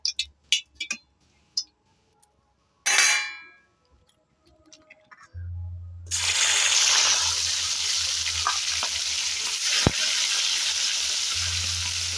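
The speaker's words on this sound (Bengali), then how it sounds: "এবার আমি দিয়ে দেবো একে একে মাছগুলো উঠিয়ে কড়াইতে" Koi fish dropped one by one into hot oil in a wok, setting off a loud, steady sizzle and hiss that fills the second half after a few clinks and handling sounds.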